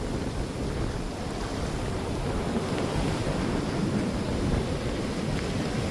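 Rough sea with relentless waves on a rainy coast, a steady broad roar of surf mixed with gusting wind buffeting the microphone, continuous throughout with no voices.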